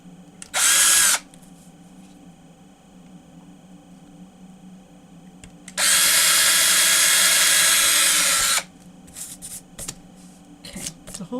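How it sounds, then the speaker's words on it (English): A power drill bores small holes through a stack of pages for bookbinding: a short high whine burst, then a longer sustained drilling run of about three seconds, close and loud, with quiet handling noises between. "I may have to re-drill with a larger drill bit"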